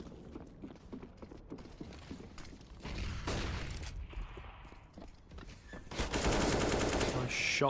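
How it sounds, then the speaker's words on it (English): Gunfire in a Counter-Strike: Global Offensive match, with rapid bursts and scattered shots, mechanical clatter and a dense loud volley toward the end. "Shots landing from Wadey as well."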